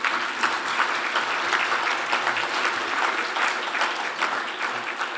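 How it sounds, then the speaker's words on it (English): A dense, steady round of applause from a large conference audience celebrating together, loud and continuous from start to finish with no voices standing out. "let's give ourselves a round of applause."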